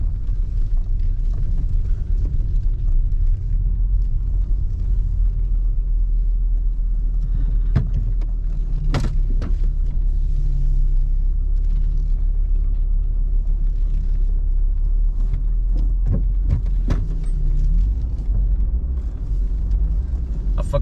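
A steady low engine rumble from a Volkswagen T3 Caravelle 2.6 van being driven around parking lots, constant and close, with occasional brief clicks and knocks over the drone.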